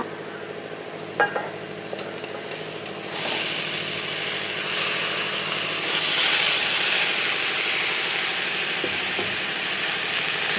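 Chopped ivy gourd (kovakka) tossed into a hot pan and stir-fried, with a sudden swell into a steady, loud sizzle and a few scraping knocks near the start, continuing unbroken.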